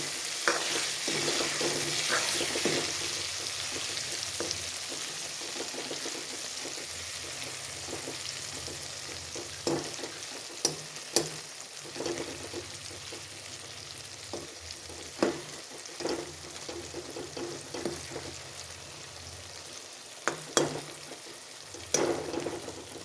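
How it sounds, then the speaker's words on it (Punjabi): Stuffed eggplants fry in oil in a pan, a soft steady sizzle broken by scattered spatula scrapes and clinks as the pieces are gently turned, close and unaccompanied by speech. "ਇਹਨਾਂ ਨੂੰ ਹੁਣ ਆਪਾਂ ਹਲਕੇ ਹੱਥ ਨਾਲ ਫੇਰ ਇਹਨਾਂ ਦੀ ਸਾਈਡ ਚੇਂਜ ਕਰ ਲਾਂਗੇ ਤਾਂ ਕਿ ਫੇਰ ਦੂਜੀ ਸਾਈਡ ਤੋਂ ਵੀ ਪੱਕ ਜਾਣ"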